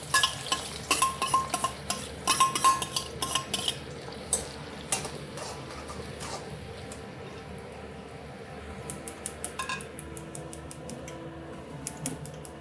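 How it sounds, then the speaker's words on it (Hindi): Three onions and red chillies frying in hot oil in a pan over low heat, a soft crackle with bursts of stirring clatter and scraping early on, then a quieter steady sizzle. "तेल हमारा गरम हो गया है, हम इसमें प्याज रखते हैं लाल करने के लिए।"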